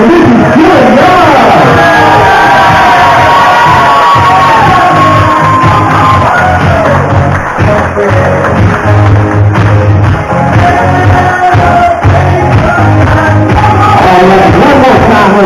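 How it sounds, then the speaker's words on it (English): A loud wedding reception crowd yelling and whooping over booming music, with voices shouting throughout; clapping is hard to pick out. "give a big round of applause"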